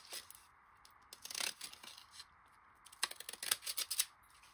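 Scissors snip and crunch through paper in short bursts, a few quick cuts, a pause, then a faster run of snips, close and quiet.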